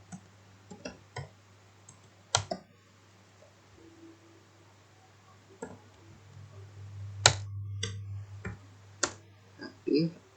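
Sparse keyboard typing for the word "kreatif" in a Cisco Packet Tracer tutorial: scattered individual key clicks, quiet and close, spaced irregularly over a low steady hum.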